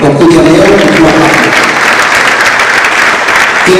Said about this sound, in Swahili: niwaulize tena tujipigieni makofi sana wanangu kwa kuja leo kwa hapa.